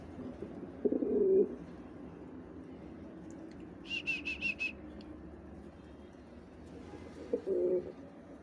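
Pigeons coo in soft, low bursts near the start and end, with a brief bright chirping trill in between, against a quiet background hum.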